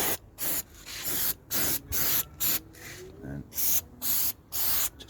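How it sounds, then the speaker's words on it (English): Silicone lubricant sprayed inside a Rover 45 car door in about ten quick hissing bursts close to the microphone, with someone talking briefly between them. "just put some silicone all up there"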